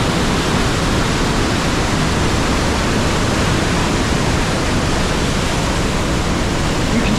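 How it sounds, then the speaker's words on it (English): Europe's largest waterfall thunders close by in Switzerland, a loud, unbroken roar of rushing water that covers every pitch and stays steady the whole time, with no voices over it. "Welcome to Europe's largest waterfall."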